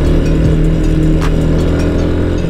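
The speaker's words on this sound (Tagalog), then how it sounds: "Grabe talaga yung backfire ng motor ko" Rusi Sigma 250 motorcycle engine running loud and steady close by on a hot midday road, its rough mid-pitched drone carrying a faint pop around the middle, with no talk over it.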